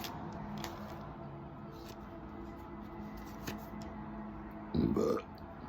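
A single short, low burp near the end, close and louder than the quiet room background with faint ticking.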